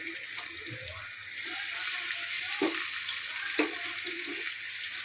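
Quail curry with salt, chili, ginger, masala and turmeric frying in a pan, a steady close sizzle throughout with a few stirring clanks.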